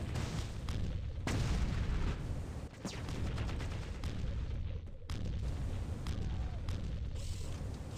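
Enemy turrets in Starsiege: Tribes fire in rapid, repeated blasts, a dense barrage of booming shots and explosions continuing almost without pause, loud and close with brief gaps.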